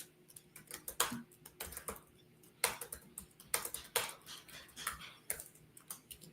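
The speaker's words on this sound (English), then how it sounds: "I'm going to type the question." A computer keyboard is typed on in quick irregular bursts of close, light clicks with brief pauses between.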